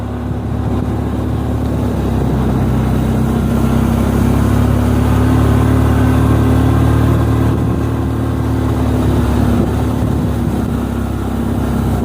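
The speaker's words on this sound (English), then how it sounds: "Riding toward the daylight, riding on my four-wheeler." A four-wheeler ATV engine drones steadily while riding across a farm, a loud, close, continuous motor hum with a slight rise in pitch midway, and no talking.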